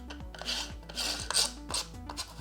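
An electric lint remover runs across fabric, giving a repeated low whirring hum with bright scratchy rasps as it presses down and pulls back in short passes.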